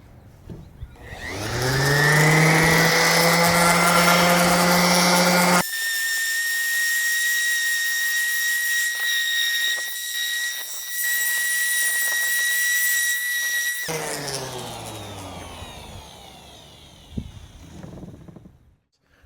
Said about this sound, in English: So let's go ahead and start sanding.